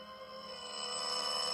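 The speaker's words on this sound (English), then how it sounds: "they stood there ringing my bell for 5 solid minutes before they woke me up" A doorbell in an old 1949 radio drama sound effect, ringing as a steady sustained electric tone that grows slightly louder over a faint background.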